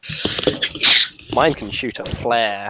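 A single sharp sneeze bursts out in the middle of casual conversation, with people talking before and after it.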